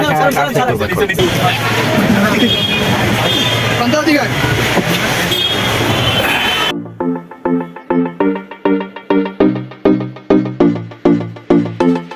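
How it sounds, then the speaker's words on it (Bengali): Busy din at Kamalapur railway station, Dhaka: rumbling trains and crowd babble fill the first half, then the noise gives way abruptly to rhythmic plucked music. "কমলাপুর রেলওয়ে স্টেশনে এসে পড়েছি"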